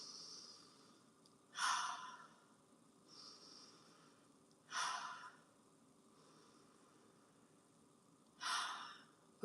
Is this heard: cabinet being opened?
no